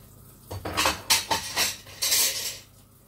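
Food containers set down on a table while preparing eggplant dishes, a series of about six clattering knocks and clinks in quick, uneven succession, close and fairly loud, with no voices.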